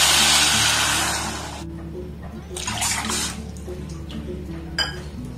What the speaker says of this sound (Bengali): এবার ওই বাটির মাপ করে এখানে আমি 2 বাটি জল দিয়ে দেব।